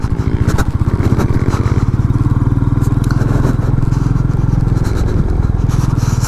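A Royal Enfield Meteor 350 single-cylinder engine thumps steadily and loudly while riding rough off-road ground, its low even pulse holding up close with scraping and rattling over the top.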